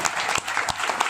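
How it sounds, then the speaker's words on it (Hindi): Audience clapping at a devotional gathering, a short burst of brisk, dense applause from a crowd, loud and even with sharp individual claps standing out, no talk over it. "उसके लिए तालियां हो जाएं भाई"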